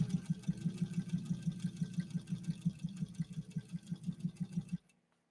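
A 1953 Singer 201-2 sewing machine runs at a steady, rapid stitching pace for about five seconds with a rhythmic low thrum, then stops abruptly. It sounds close and moderately quiet, with no voices.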